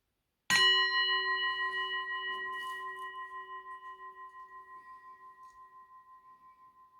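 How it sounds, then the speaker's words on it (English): Single strike of a bell, a bright clear ding that rings on with a slowly fading, pulsing hum for several seconds in a quiet room. "I have to dong the bell"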